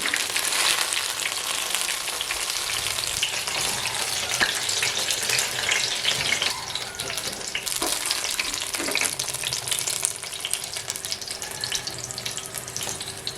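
Eggplant pieces fry in oil inside a clay pot, a steady, bright crackling sizzle with occasional stirring and bubbling, close and continuous with no talking.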